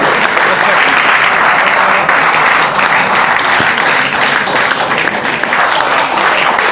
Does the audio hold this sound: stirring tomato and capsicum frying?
no